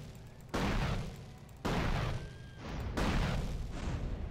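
Gunfire in GTA: San Andreas Definitive Edition comes as three loud, sustained bursts of shots with short gaps between them, over a low background of game noise.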